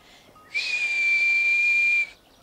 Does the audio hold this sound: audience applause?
no